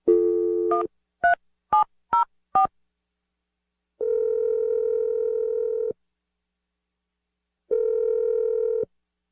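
A landline telephone plays a few DTMF keypad tones as a number is dialed, followed by two long steady ringback tones separated by silence, clear and loud as heard over the line.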